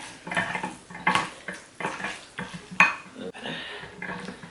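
Utensils clattering and scraping against a bowl while spicy cheese noodles are stirred, with wet, squishy mixing sounds in irregular bursts.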